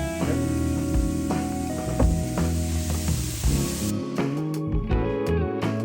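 Capsicum sizzling hard in a hot stir-fry pan, a loud continuous hiss with scraping and stirring clatter mixed in, alone without talk.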